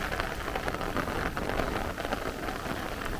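Heavy rain pours steadily onto a Brooklyn street in Bay Ridge during a thunderstorm, a dense, continuous hiss of drops spattering nearby pavement with no let-up and no voices.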